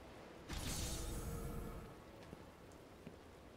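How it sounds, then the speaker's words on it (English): Steady video-game rain pours down at night with a soft hiss, swelling briefly then easing, with a couple of faint clicks near the end. "Of course, it's on a rainy night, we have to do this."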